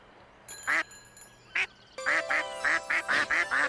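A cartoonish duck quacking sound effect from a game stream: a couple of separate quacks, then a quick, rhythmic run of repeated quacks, loud and clear with no talk.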